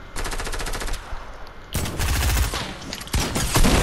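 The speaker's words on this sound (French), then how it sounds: "Je lui ai mis plein de balles." Automatic weapon fire in the video game Fortnite Battle Royale, two loud rapid bursts of shots separated by a brief lull, followed by a few more heavy shots near the end, no speech.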